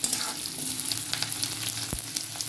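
Potatoes frying in a little oil in a pan, a steady close sizzle throughout with a couple of brief utensil knocks near the end.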